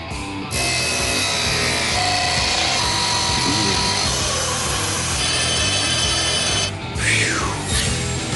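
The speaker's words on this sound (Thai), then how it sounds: "การตัดที่เล็กแต่แม่นยำมากเลย" A power cutting machine grinds and saws steadily through the steel body of a drained bottle jack, a loud continuous abrasive whine that runs for several seconds before briefly dropping and then resuming.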